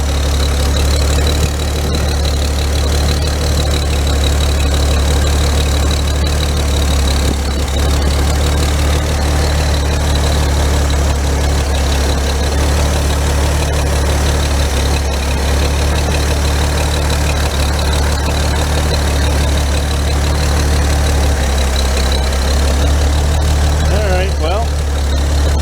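A car engine idles steadily after its intake and exhaust gaskets were replaced, a constant low hum with a faint ticking texture throughout, close by and unbroken, with a brief soft knock near the end.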